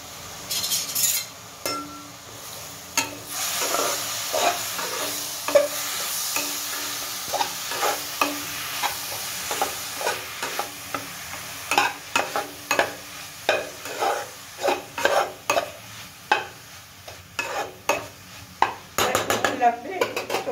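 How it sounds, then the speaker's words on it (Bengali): Jaggery and grated coconut stirred in a pan with a utensil, a steady series of scraping, clinking strokes over a soft sizzle, close and moderately loud with no voices. "আস্তে আস্তে আমি এখানে নারকেলের সঙ্গে এটাকে পাকিয়ে নিচ্ছি, গুড়টা"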